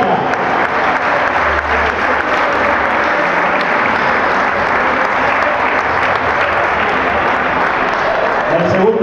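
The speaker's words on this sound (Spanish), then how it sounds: "Es el fuerte aplauso para la Escuela Municipal de Lucha de" A loud crowd applauds without pause as a municipal wrestling school steps onto the podium at the closing ceremony of island youth sports games. The clapping is dense and continuous from start to finish.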